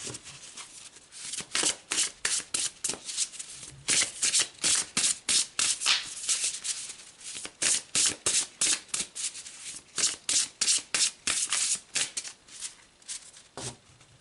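Oracle cards are shuffled by hand close up, a rapid series of crisp riffling bursts in an uneven rhythm, with short pauses between runs and no talking.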